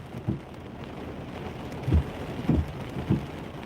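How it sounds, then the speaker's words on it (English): Heavy rain shower pours down during a storm chase, a steady broadband hiss of rain with a few dull low thumps scattered through it, and no one speaking. "This might be the heavy rain shower."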